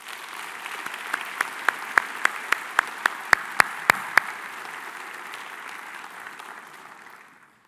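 An audience applauds at the FIP World Congress 2023 opening ceremony: a dense wash of crowd clapping with several loud, close single claps standing out, the whole ovation tapering off toward the end.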